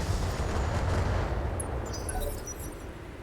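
Mech weapons firing in Battletech with the Roguetech mod rumble as heavy, booming volleys that roll continuously, then thin toward sharper crackling impacts.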